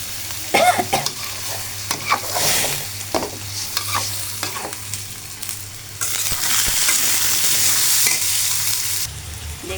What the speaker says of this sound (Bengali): এখন আমি মুরগিটি কষিয়ে নিচ্ছি ভালো করে, একটু করে পানি দিয়ে দেব অল্প করে